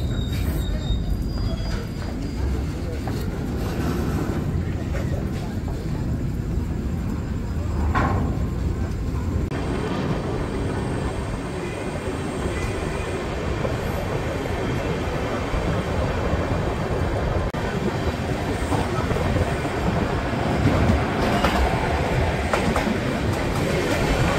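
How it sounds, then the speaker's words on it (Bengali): Gour Express train from Malda to Sealdah rolling into Pakur station, a steady loud rumble of wheels and carriages with rhythmic rail clatter throughout, heard from inside a general coach. "আমাদের ট্রেন কিন্তু পাকুড় স্টেশনে ঢুকলো।"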